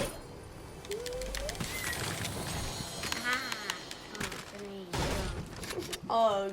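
Video game gunfire cracks in scattered bursts during a Fortnite-style battle royale match, mixed with bird-like cooing effects and player chatter.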